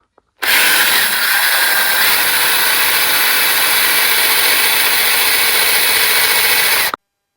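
A standard thread tap driven by a quarter-inch drive socket cuts a thread on a sports car build, giving a loud, steady grinding, rubbing mechanical noise that runs continuously for about six seconds with no talking.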